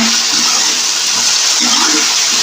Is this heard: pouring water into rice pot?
yes